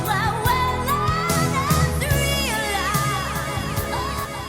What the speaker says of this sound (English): Nice round of applause for all Addy's friends.